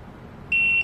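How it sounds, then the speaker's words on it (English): A TST tire pressure monitoring system unit for an RV or trailer gives one short, clear electronic beep when its set button is held, with quiet background noise before it. "it will beep and then put you in the set mode"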